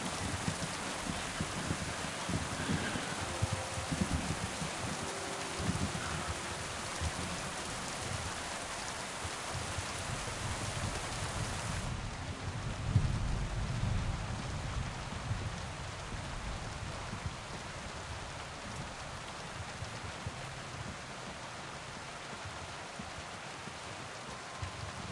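Steady, loud rainfall pours throughout in Kingdom Come: Deliverance II, a dense continuous hiss that stays even and close for the whole stretch with no voices.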